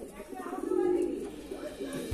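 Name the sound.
Kalanka pigeon cooing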